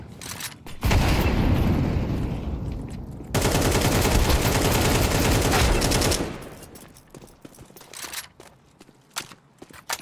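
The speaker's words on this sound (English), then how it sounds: "Throwing a flashbang. I'm throwing a grenade." Counter-Strike 2 combat erupts with a flashbang and a grenade going off in quick succession, each loud blast followed by a long, harsh wash of ringing and rumble, then quieter gunfire clicks and footsteps.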